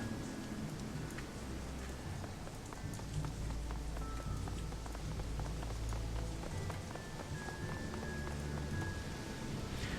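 Steady, faint rain patters on surfaces in the video game Shadowrun: Hong Kong, a continuous low wash of falling water.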